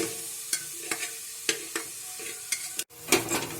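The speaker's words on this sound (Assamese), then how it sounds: "অলপ সময় লৰাই এইখিনি সিজাব লাগিব ভালকৈ মিক্স হোৱালৈকে।" A spoon scrapes and knocks against a pot as boiled pork is stirred for an Assamese dish, with a soft sizzle underneath and regular clinks roughly every half second.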